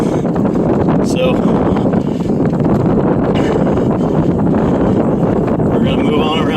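A strong wind on a beach roars steadily and loudly into the microphone, a constant rushing buffet that runs the whole time, with someone talking over it.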